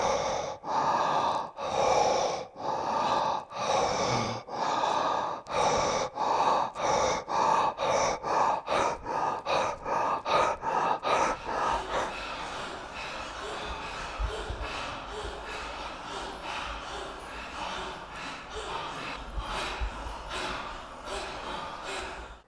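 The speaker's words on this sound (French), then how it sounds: "Donc une respiration longue et profonde." Long, deep meditative breaths in Chakra Breathing practice, close and loud, with quick rhythmic inhale-exhale pulses at first, then a steadier, breathier stretch of exhaling.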